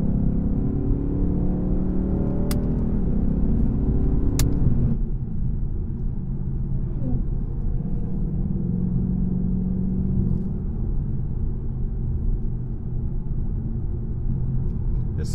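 A 2020 Ford Mustang GT driven on a winding mountain highway gives a loud, steady engine rumble heard from inside the car. The engine pitch shifts as it downshifts, with a couple of brief sharp clicks.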